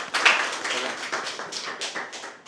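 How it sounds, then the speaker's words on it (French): An audience claps for a speaker at an online business seminar, a short burst of scattered applause that fades out within a couple of seconds. "applaudissez très fort pour moi-même"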